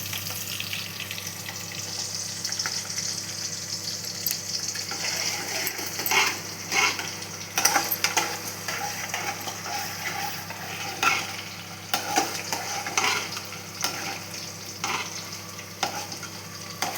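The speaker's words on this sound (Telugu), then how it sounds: "ఆనియన్స్ యాడ్ చేసుకోవాలి. కలుపు వేగనియాలి." Onions frying in oil with salt, chili powder and turmeric while being stirred, a steady close sizzle broken by scraping stir strokes and spoon clatter, with no talking.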